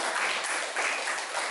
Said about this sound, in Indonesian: Ya, jadi kita beri tepuk tangan untuk Zahra.